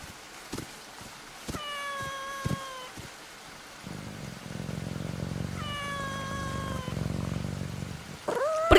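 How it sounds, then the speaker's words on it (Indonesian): A lame cat meows twice, each call a clear drawn-out mew separated by a few seconds, over a low background hum and a few soft knocks, with a brief sharper cry at the end. "Pergi sana kucing pincang,"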